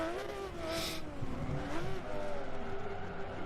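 A race car in Forza 7 on the Mugello circuit, engine pitch sweeping down and up as it brakes hard and accelerates, with a brief tire scrub; steady, moderately quiet and continuous.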